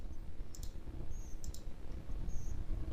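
Computer mouse clicks at a desk while a report is being formatted, several sharp, light, high-pitched clicks scattered over a low steady room hum, close to the microphone with no talking.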